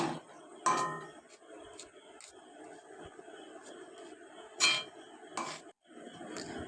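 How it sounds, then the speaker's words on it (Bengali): Flour is worked into a milk and banana batter in a bowl, with a spoon knocking and clinking against the rim in scattered taps and a few louder clanks, close and quiet, with no one talking. "আটাটাকে আমি ভালো করে এই মিশ্রণের সঙ্গে মিশিয়ে নেব"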